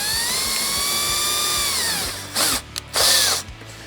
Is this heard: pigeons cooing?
no